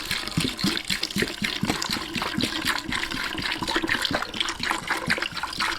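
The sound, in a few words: Evaporust rust remover liquid poured into container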